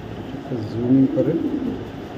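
A female black checker racing pigeon coos in a short, soft burst close by, with a few low warbling notes rising over faint background voices and room noise.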